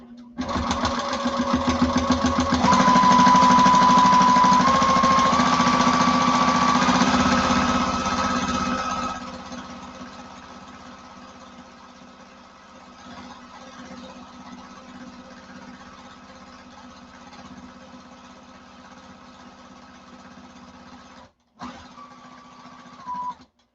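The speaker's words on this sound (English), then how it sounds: "I'm going to stitch over to the end about 1/8 of an inch." A sewing machine stitches a duffle bag exterior in a loud, steady run, then continues more softly at a slower pace with a brief stop near the end.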